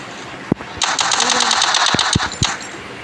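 Gunfire in a Roblox Free Fire match: a sustained rapid burst of automatic shots with a few sharper single bangs before and after it, loud and close, and a voice briefly heard.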